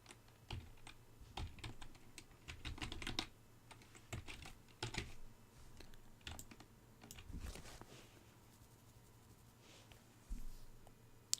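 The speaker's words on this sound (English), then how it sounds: "you can use the backspace to delete and then type" A computer keyboard clatters with quiet, irregular bursts of keystrokes and a few sharper taps, close and alone.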